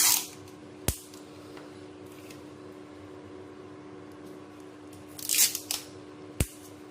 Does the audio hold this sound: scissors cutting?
yes